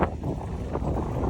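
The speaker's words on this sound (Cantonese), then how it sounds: "呢度又吹喎，嘭嘭聲嗰啲風" Strong wind buffets a microphone during an open-water triathlon swim at Hengqin, Zhuhai. Gusts thump and rumble in uneven bursts over a continuous roaring rush, with no speech.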